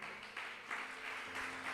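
Church congregation applauding during a sermon, a faint, distant, steady patter of many hands clapping throughout.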